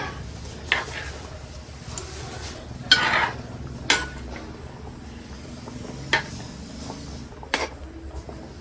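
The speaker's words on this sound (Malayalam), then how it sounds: "നമ്മൾ മീനൊക്കെ ഒന്ന് ഇട്ട് കൊടുത്ത് ഇനി ഒന്ന് ഇളക്കി വെക്കാം" Fish curry is stirred in a pot with a spoon, giving soft scraping and occasional sharp metallic clinks against the pot over a quiet kitchen background.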